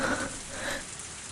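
Heavy rain in the visual novel game Higurashi When They Cry: a brief, fairly quiet patter of dense rainfall hissing on a surface, steady and unbroken.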